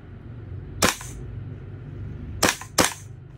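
A Kingarms TWS gas blowback airsoft rifle test fires three sharp, loud shots: a single crack, then a quick pair about a third of a second apart over a faint background hum.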